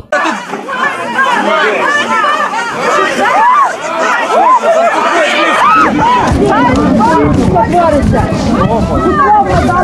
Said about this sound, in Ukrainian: Міліції ледь вдається стримувати натовп.